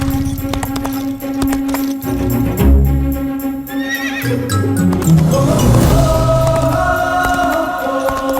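A horse neighs and whinnies loudly in a movie scene, a long, shrill call rising over a rumbling, busy background, followed by more snorting and horse noise.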